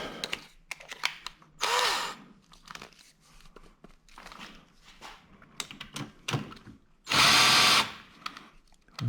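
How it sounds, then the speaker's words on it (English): A power drill drives a WP motorcycle rear shock preload adjuster. Two loud, close whirring bursts, the second longer, are separated by quieter clicks and handling noises from the workshop. "Let's see if the drill can handle it."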